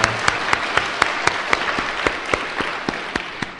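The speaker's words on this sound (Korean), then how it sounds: "예, 방송부에게 박수 한번 주십시오." A church congregation applauds, a dense burst of many hands clapping close and loud for a few seconds, with distinct sharp claps standing out from the steady patter.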